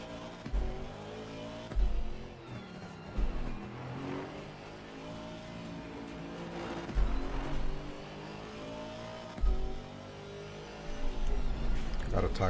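GT4 race car lapping Zolder in a racing video game, engine note rising and falling through repeated throttle surges and gear shifts, steady and close, with someone talking over it.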